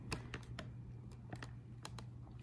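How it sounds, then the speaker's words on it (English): Fingers tap a computer keyboard beside a tablet ultrasound system, about a dozen light, irregular keystrokes clicking close by over a steady low hum, with no talking. "That's why I have my keyboard here, see, where I can type whatever I need"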